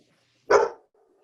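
A puppy lets out a single short, sharp bark indoors, close and fairly loud, standing alone against near silence.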